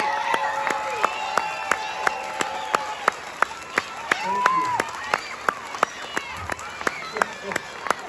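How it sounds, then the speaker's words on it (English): A crowd applauds and cheers while a loud, regular clap or stomp beats in steady rhythm. Voices call out and talk over the noise. "let's give them a round of applause, please"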